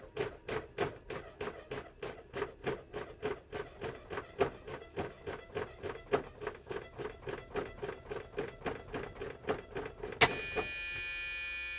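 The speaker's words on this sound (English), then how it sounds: "I'm going to fan the brakes to between 20 and 40 psi, at which time my brake valves should engage," A truck's air brakes are fanned during a Class A pre-trip inspection, giving a long run of rapid, evenly spaced pneumatic hisses and thumps, then a sharp release and a steady airy hiss to finish.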